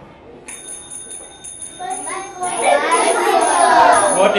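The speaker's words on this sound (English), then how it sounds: "It's a bicycle bell." A bicycle bell rings several times in quick succession, then children's voices rise and grow louder beneath it.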